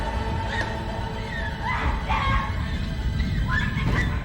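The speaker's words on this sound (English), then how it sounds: "Everyone takes off, screaming like banshees" Schoolgirls in a horror game or anime scream as they flee from demons, several high shrieking cries rising and overlapping over a constant noisy background.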